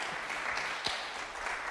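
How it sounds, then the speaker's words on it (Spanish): Church congregation applauding during a Sunday service, a soft, even patter of clapping heard from a distance, with one brief knock partway through. "hemos aplaudido tanto, si no se le han gastado las palmas, puede volver a hacerlo si gusta"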